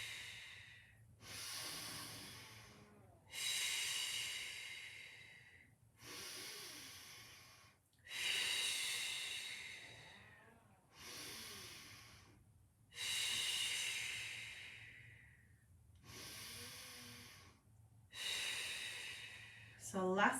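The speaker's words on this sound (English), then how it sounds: "Controlled. Breathing in, breathing out." Deep, controlled breaths during a Pilates exercise class, about nine slow, even cycles of audible inhaling and exhaling, each a long breathy rush separated by short quiet pauses.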